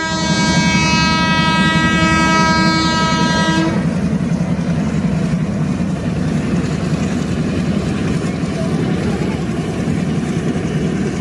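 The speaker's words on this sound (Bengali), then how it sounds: "হু হু শব্দে একটা ট্রেন চলে গেল।" A train passes at the India–Bangladesh border at Hili, sounding a long horn at first and then keeping up a loud, steady rumble and roar as it goes by close at hand.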